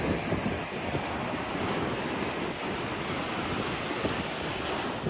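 Ocean surf rolls in on a brisk wind at a beach on Corito Bay, giving a dense steady roar of waves mixed with gusty wind buffeting the microphone, with no talking.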